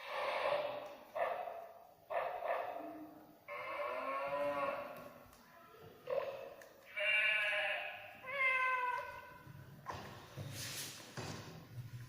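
Farm animals from a children's set, including a lamb, give repeated bleating and lowing calls in short bursts, loud and close, separated by brief pauses.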